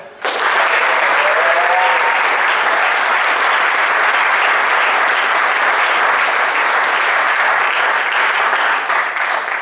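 Loud, sustained audience applause fills a debate hall, a large crowd clapping continuously to vote for the negative team at an engineering society debate on intelligent transport systems.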